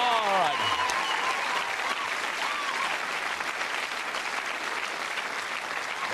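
Studio audience applause at a television game show fills the room steadily, loud and sustained throughout, with a voice rising briefly over the clapping near the start.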